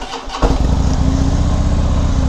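A Harley-Davidson Fat Bob motorcycle engine cranks and fires up, settling into a loud, steady, close-up idle rumble with no talking.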